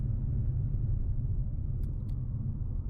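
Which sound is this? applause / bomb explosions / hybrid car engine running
hybrid car engine running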